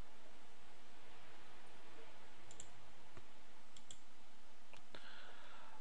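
Computer mouse clicks during Photoshop and Illustrator work, a few sharp, close, quiet clicks spaced apart over a steady hiss, no talking.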